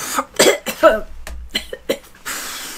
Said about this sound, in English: I just had a coughing fit then because I sprayed it too close to my face